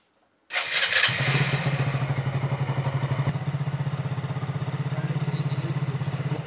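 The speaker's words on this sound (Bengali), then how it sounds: "এরপর আমরা 5 মিনিট ইঞ্জিনটাকে গরম করব।" A car engine cranks and catches, then settles into a steady, rhythmic warm-up idle during an engine flush, running on evenly close by.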